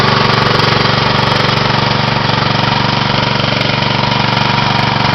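A mobile fire suppression pump's engine runs steadily at a loud, constant drone for the whole stretch, with no pause or change in pitch and no voices.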